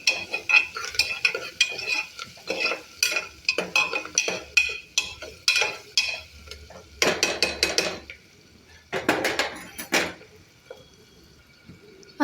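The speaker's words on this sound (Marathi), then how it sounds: "त्यामध्ये कांदा लालसर होईपर्यंत परतायचा आहे." Chopped onion being sautéed in a pan, with a spoon scraping and clinking against the metal in quick irregular strokes, close and fairly loud, faint frying beneath, and a brief pause near the end.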